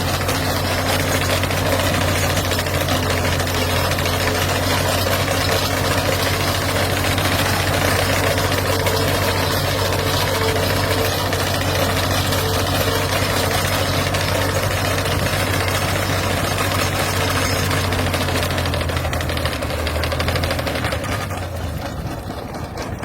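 The engine of a YUMZ-6 tractor runs steadily and loudly during haymaking in a Ukrainian village, a constant mid-pitched diesel drone with a rattling, vibrating texture that softens slightly near the end.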